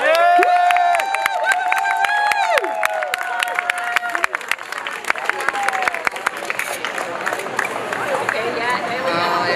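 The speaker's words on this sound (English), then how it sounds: "can we just have a massive round of applause for our cat walk-ins?" A live crowd gathered at Parliament Square applauds, with broad sustained clapping and scattered cheers. Loud voices and music-like tones sound at the start, and the crowd noise fills the whole stretch.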